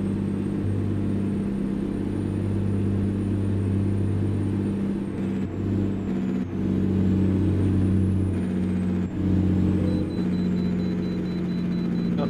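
Kenworth W900 truck with a Cummins ISX engine in American Truck Simulator, a loud steady low diesel drone with a faint whine riding above it and brief dips, heard on its own without talk.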